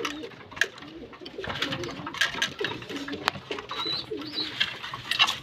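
Loft pigeons, restless and eager for feed, coo repeatedly in overlapping low phrases close by, with wing flutters and small sharp knocks scattered throughout.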